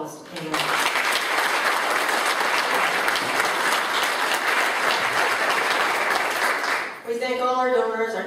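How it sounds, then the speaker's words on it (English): An audience at a Northumberland United Way annual general meeting claps loudly and steadily for several seconds, then the applause stops abruptly and a voice begins speaking. "I'd just like to give a round of applause to Pam."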